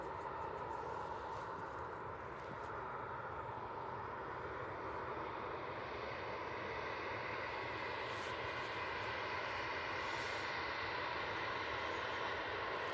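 A Jet2 airliner at Manchester Airport gives a steady, broad engine roar that grows slightly over about thirteen seconds, with no voices.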